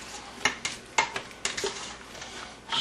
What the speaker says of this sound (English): Now give it a little stir.